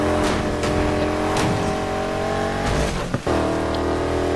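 Car engine roaring and revving with tires in Need for Speed Heat during a police chase, a loud continuous drone with shifting pitch, a brief dip and skid-like burst near the end, no talk.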